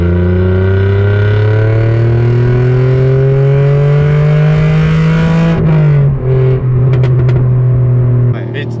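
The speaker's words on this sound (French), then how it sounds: "je t'en redemande une dernière de petite accélération en 2 pour qu'on puisse réécouter ces douces mélodies" A naturally aspirated 3-litre V6 car engine revs loud and close in second gear, pitch climbing steadily before dropping at a gear change and settling to a steady drone.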